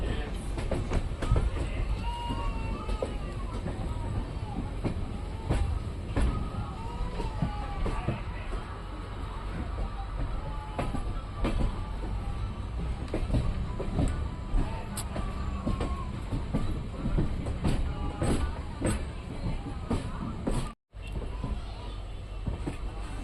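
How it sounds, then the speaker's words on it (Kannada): A train rolls along steadily near Toranagallu Junction in Karnataka, its wheels clattering and rumbling with rhythmic clicks over the rails, heard continuously from inside a carriage. "ತೋರಣಗಲ್ಲು ಜಂಕ್ಷನಿಂದ ಸ್ಕಿಪ್ ಮಾಡ್ಕೊಂಡು ಹೊರಟಿದೆ ನಮ್ಮ ಟ್ರೈನ್."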